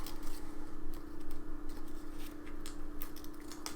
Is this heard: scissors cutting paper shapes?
yes